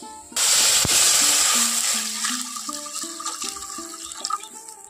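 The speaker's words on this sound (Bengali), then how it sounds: "কড়াইয়ের মধ্যে দিয়ে দিচ্ছি জল" Water poured into a kadai set on a gas stove, a loud close splashing gush that starts abruptly and then settles into a softer, bubbling trickle.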